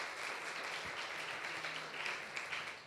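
Church congregation claps in praise during a sermon, a dense, even patter of many hands kept at a moderate, somewhat distant level for a few seconds.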